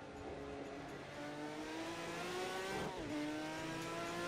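A Jaguar XJR9LM race car in Project Cars 2 roars at the Bathurst circuit, its engine note climbing steadily through the gears with a brief dip and shift before pulling hard again, loud and continuous.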